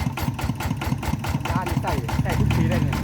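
A walking tractor engine runs close by in a steady, rapid chugging beat, loud and continuous, with a voice talking over it.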